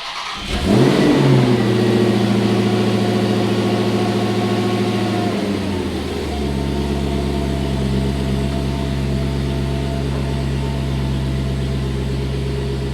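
A Dodge Demon 170 engine fires up with a loud starter burst and rev, then settles into a steady, deep idle that holds for the rest of the clip.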